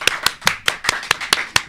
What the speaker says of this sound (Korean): 큰 박수 환영해 주십시오